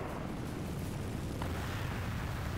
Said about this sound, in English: Oh yeah, the catapult bolts are firing in.